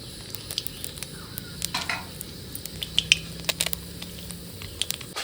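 Black cumin seeds temper in hot oil, giving a steady close sizzle scattered with sharp crackling pops, with no one talking.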